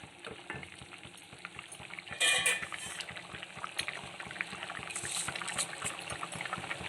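Water for prawn biryani bubbling at a rolling boil in a pot, a steady close churning and popping texture with a brief louder stir or splash partway through, no speech.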